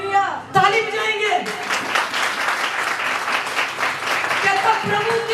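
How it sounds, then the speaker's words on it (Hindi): Church congregation clapping in dense, steady applause that starts after a brief spoken phrase and holds loud and continuous, with a voice faintly over it. "ताली बजाएंगे।"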